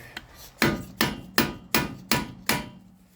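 A hammer strikes a car brake rotor six times in an even rhythm to loosen it during a 2020 Accord wheel bearing and spindle job, each blow a sharp metallic clank close to the mic.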